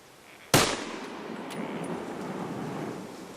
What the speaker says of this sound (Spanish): el cazador apunta y dispara